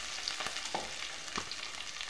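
Onion, garlic, mustard seeds and cumin fry in hot oil for a Marathi drumstick vegetable dish, giving a faint, steady sizzle with a few soft stirring taps.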